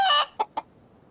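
Cartoon chicken from the animated film Lilo & Stitch 2: Stitch Has a Glitch gives a loud, nasal squawk, followed by two short, clipped clucks, then quiet.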